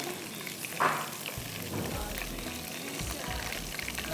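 Ginger, garlic and meat frying in oil for methi matar pulao, a dense, close sizzle with a brief louder spatter early on, under quiet talk.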